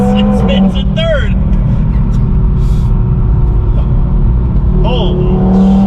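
A boosted 2022 Audi TT RS accelerates hard with its wheels spinning: a loud, close engine note rises in repeated sweeping revs over a heavy rumble of road and tyre noise.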